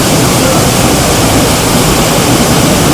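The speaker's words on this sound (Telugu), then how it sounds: "గోవాలో అయితే ఫస్ట్ వాటర్ ఫాల్స్ చూసామన్నమాట మొత్తానికి" Rushing water of Dudhsagar waterfall in Goa pours in a loud, steady, dense roar that never lets up, close and with no talking.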